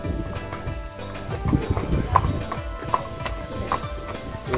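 Horse hooves clip-clopping at the OASIS Activity Farm Park during a family day outing, a steady series of close knocking steps with people talking in the background.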